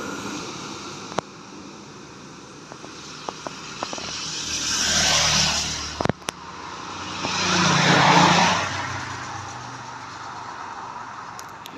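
A fast racing motorbike on a race track roars past twice, each pass swelling loud and close then fading, with faint clicks and ambient hum between passes.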